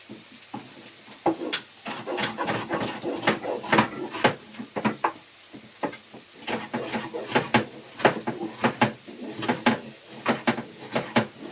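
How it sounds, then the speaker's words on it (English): Home kitchen chopping during peperonata prep: a knife taps rapidly and repeatedly on a cutting board in quick irregular runs, with occasional clatter of dishes and faint background noise. "Enjoy chopping background noises."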